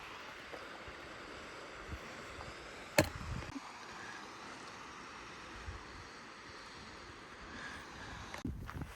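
Steady broadband water rush of a waterfall on a hot-weather Bay Area hiking trail, constant and moderately loud throughout with a brief sharp knock near the middle.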